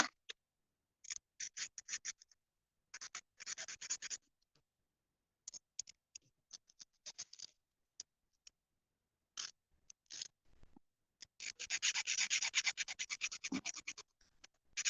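A small leftover bit of metal sheet is filed down by hand during jewelry making in a metalsmithing class, giving bursts of dry, scratchy rasping strokes separated by pauses, with a longer, denser run of filing near the end.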